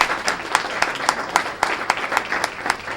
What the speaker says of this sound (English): So let's give everyone a great round of applause.